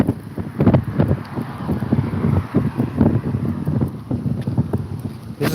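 Strong outdoor wind buffeting the microphone, gusting unevenly in loud rumbling bursts for several seconds with no other sound.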